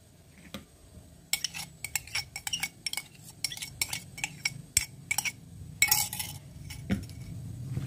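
A utensil scrapes and clinks against the sides of a bowl in quick irregular strokes, mixing thick cake dough with instant yeast, with a low background hum.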